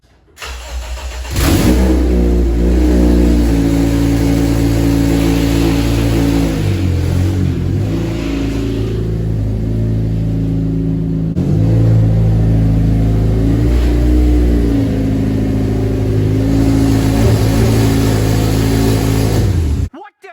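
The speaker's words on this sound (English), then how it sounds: "show you guys what the exhaust sounds like without the gasket" A car engine starts and idles with a loud, rough, leaky-sounding exhaust missing its gasket, then revs up and down several times, close to the microphone.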